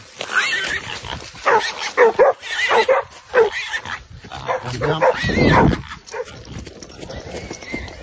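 Hunting dogs barking and yipping during a pig hunt in Perth, Australia, a run of loud, close, excited barks in irregular bursts, with whimpers and rustling movement between them.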